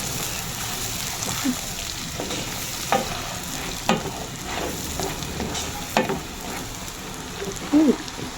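Sisig made from tapalang sizzles in butter with green chili and labuyo chili, a steady close frying hiss broken by a few sharp stirring clinks and scrapes.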